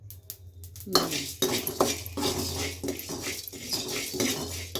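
Fennel and coriander seeds dry roasting in a pan for chicken sukka, giving a steady busy crackle and scrape with light clinks of a spoon stirring against the metal throughout.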